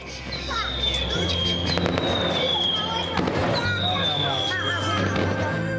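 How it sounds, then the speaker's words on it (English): Fireworks crackle and pop in a rapid volley with whistling streaks at the start of a Golden Dragon Parade, while a crowd murmurs and talks underneath. "a volley of fireworks signified the start of the parade"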